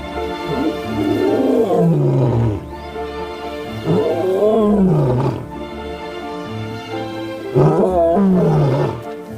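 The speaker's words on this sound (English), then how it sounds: "Juveniles rarely roar, but when they do, it's often full of meaning about their pride, their alliances," Juvenile lion roaring in the wild, three long, loud, close roars that rise and then sink into drawn-out groans, separated by short pauses, with no voices over them.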